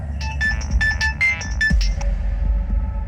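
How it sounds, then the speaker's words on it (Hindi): A phone ringtone plays loudly and close, a bright chiming electronic melody of quick repeated notes over a low throbbing hum, with no talking. "किसका फोन है?"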